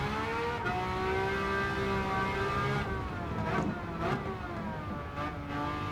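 A loud V12 race car engine in a video game roars continuously, rising and falling in pitch with gear changes, with a few sharp crackling pops between shifts.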